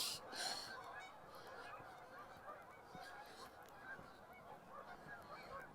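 Flock of Canada geese flying over in the country on a December day, honking steadily in overlapping calls, moderately distant and continuous with outdoor ambience.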